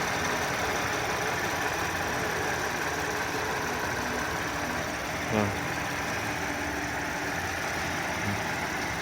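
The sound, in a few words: warmed-up Audi 3.0 TFSI engine idling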